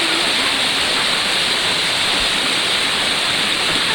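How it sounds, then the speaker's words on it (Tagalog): Strong rushing water pours down a waterfall in Mindoro, a loud, dense, unbroken roar heard up close, with no voices over it. "Grabe guys, ang lakas ng tubig dito."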